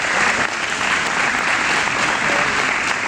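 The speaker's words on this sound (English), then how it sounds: "Let's give the young people another round of applause." Audience applause at a youth student awards ceremony in Abaco, Bahamas: dense, steady clapping from a full room that holds evenly loud and close for the whole stretch, with no talking over it.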